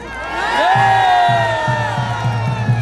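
A crowd at a Korean Taegukgi political rally cheers and shouts for a movement representative. Raised voices swell together over a steady, rhythmic low pulse, loud and close, with no single speaker standing out.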